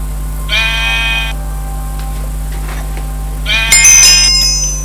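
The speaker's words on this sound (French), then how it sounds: "Et vous tondez le mouton." Sheep in Minecraft bleat while being sheared, two loud, close, buzzy digital bleats with a brief shearing snip between them over a steady background hum.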